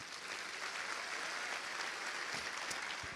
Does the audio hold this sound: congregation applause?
yes